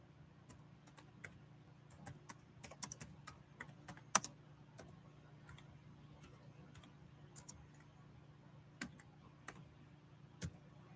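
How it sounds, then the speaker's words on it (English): Faint scattered taps on a computer keyboard during a helmet card break, sparse keystrokes and clicks over a quiet steady hum, no voices. "Let me get it typed in before you claim."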